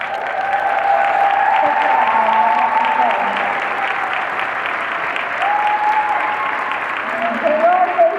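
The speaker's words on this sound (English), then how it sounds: "will you please stand so we can give you a round of applause" An audience at a career conference applauds standing consultants: sustained loud applause with cheering and raised voices mixed throughout, continuing strongly for the whole span.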